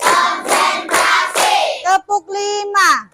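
Children at an elementary school clap their hands in a counted chant, sharp clap bursts in a steady rhythm alternating with young voices calling out the counts.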